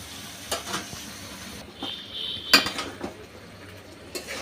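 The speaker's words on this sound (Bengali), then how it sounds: "একটু ভালো করে উল্টা পাল্টায় নেড়ে দিই" Buffalo spinach and lentils being stirred in a cooking pot, with a few scattered scrapes and utensil clinks against the pot and a faint sizzle underneath, mostly quiet and close.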